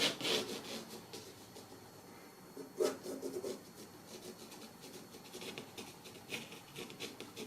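Pencil sketching on paper for a watercolour seascape of rocky coastline, a steady soft rubbing and scratching of strokes, close and quiet, with a few firmer bursts.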